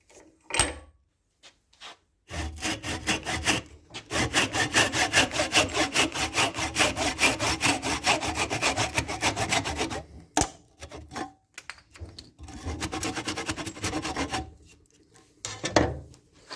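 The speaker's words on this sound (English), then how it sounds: "I'm going to do my cross cut." Hand saw making a cross cut through wood held in a vise for a halving joint, with rapid, rhythmic rasping strokes in a long sustained run, brief pauses, then shorter bursts of sawing, close and clear with no talk.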